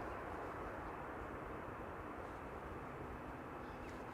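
A large airliner rolls out after landing at Amsterdam Schiphol with its thrust reversers deployed, a steady, loud broadband engine roar that holds constant throughout with no voices.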